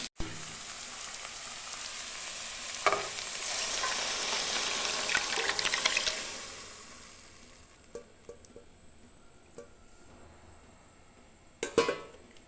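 Goat blood is poured onto onions frying in a pan, bringing a loud hiss that swells for several seconds and then fades, followed by quiet gaps broken by a few sharp clinks of a utensil.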